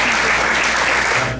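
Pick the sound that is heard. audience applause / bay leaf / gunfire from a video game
audience applause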